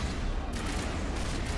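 Continuous gunfire in the video game Mass Effect 1, a dense unbroken fusillade of shots filling the whole moment at moderate level, with no voices over it.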